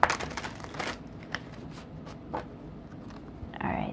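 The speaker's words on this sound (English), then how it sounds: "I'm going to switch to a deck that's easier for me to shuffle" Tarot cards being shuffled by hand, a crisp riffling burst near the start followed by softer intermittent card rustles and taps, close and fairly quiet.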